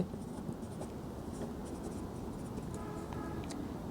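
Chalk or a marker scratches and taps across a board as math is written, a close, continuous run of small strokes and ticks with no speech.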